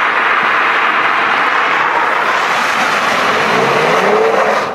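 An upgraded Mercedes C-Class drives on a Swedish road with a loud, continuous engine roar and rushing road noise. The pitch rises slightly toward the end, and no one speaks.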